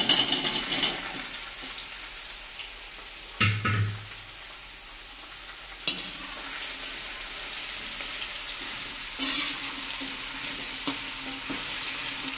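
Chopped taro root frying in a pan with curry leaves in a village kitchen, steady sizzling broken by a few sharp stirring scrapes and clatters, no talking.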